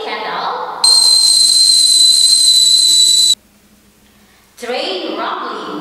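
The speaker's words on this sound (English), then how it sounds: "Whistle of a tea kettle," A tea kettle whistles with a steady, piercing high tone that holds loud for about two and a half seconds, then cuts off abruptly. A voice speaks before and after it.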